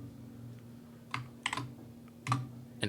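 Keys tapped on a computer keyboard: a few separate clicks, a pair close together, then a final firmer press like Enter, close and clear over a low steady hum, no voices.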